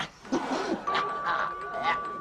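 A two-tone electronic doorbell chime rings once indoors in a Slovenian sitcom home, a clear ding-dong followed by a sustained ringing tone.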